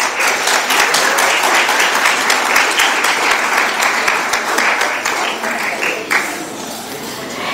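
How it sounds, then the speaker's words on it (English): An audience at a school ceremony gives a loud round of applause for a championship tennis team, with dense, continuous clapping that stays strong throughout and briefly swells near the end. "And another round of applause for our championship tennis team."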